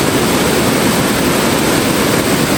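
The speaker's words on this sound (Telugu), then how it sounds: "ఇదిగోండి ఫ్రెండ్స్, వాటర్ ఫాల్స్ చూడండి." A waterfall in Kerala, a dense, steady roar of falling water filling the whole scene, loud and continuous with no breaks or voices.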